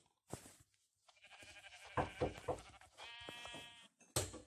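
Several wavering sheep bleats from a survival video game come one after another with short gaps, clear and fairly close, with no talk over them.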